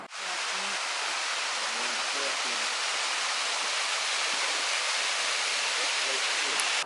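Steady, dense roar of a waterfall near Loch Ness in Scotland, continuous broadband rushing water close by and loud throughout, with no other sounds standing out.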